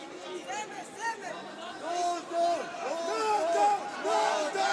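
Crowd roaring and shouting at an IFC 20 title MMA bout between Jonas Boeno and Nodar Kudukhashvili, loud and continuous and swelling in waves, with a commentator's voice running over it.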